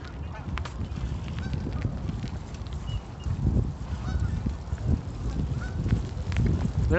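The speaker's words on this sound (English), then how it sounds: "Two duck guys are fighting." Loud, repeated honking and squawking from two ducks fighting nearby in McKinley Park, Chicago, with splashing and flapping noise throughout.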